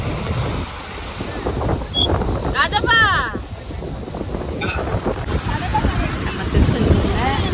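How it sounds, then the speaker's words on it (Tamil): Sea waves wash onto Tiruchendur beach at night, a continuous rushing surf with wind buffeting the microphone, rising and falling in broad swells, with faint background voices. "நைட்டு வியூ பாருங்க கடல் எவ்வளோ அழகாக இருக்குன்னு"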